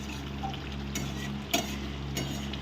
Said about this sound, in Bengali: দেখুন মাংসটা আমি এখনও কষাচ্ছি